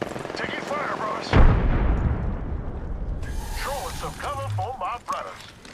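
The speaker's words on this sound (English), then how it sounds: "Frag grenade sent" In an Apex Legends match, a frag grenade explodes with a sharp loud boom amid gunfire and game sound effects, while a player talks over the action.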